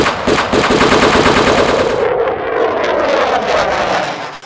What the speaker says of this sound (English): 130 decibel gunshots or jet engines.